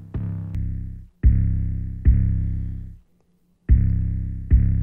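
An EQ'd, distorted 808 bass pattern from a mix: five deep booming hits with bright attacks and long decays, separated by short gaps, heard alone and fairly loud.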